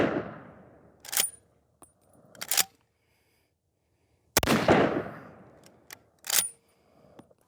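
A Remington Gamemaster 760 pump-action rifle in .270 fires several rapid shots, each loud crack trailing off in echo, with sharp metallic clacks of the pump action between them.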